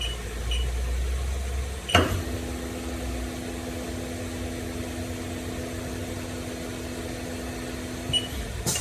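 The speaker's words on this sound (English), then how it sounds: "here's the spindle at a couple of RPMs across the range" The spindle of a 2018 Haas DM-2 vertical CNC machining center spins up to 5,000 RPM after a sharp start click and then holds a steady, quiet mechanical hum with a faint tonal whine. A soft click marks the end.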